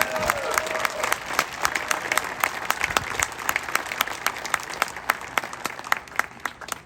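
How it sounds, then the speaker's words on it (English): An outdoor crowd at a Freedom Fest in Orange Beach applauds military families, a steady wash of many hands with distinct sharp claps standing out, fading slightly toward the end. "please give them a round of applause for all the families out there"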